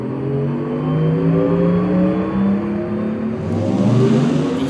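A 2024 all-electric Porsche Macan driving at night, its smooth electric motor whine rising and shifting in pitch as it accelerates past, with a steady rolling road rumble underneath and no voices.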